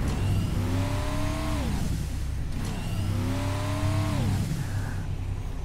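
A vehicle engine in Skylanders SuperChargers revs on nitro boost, two rising-then-falling whines sweeping up over a steady low hum, sustained and moderately loud with no talking.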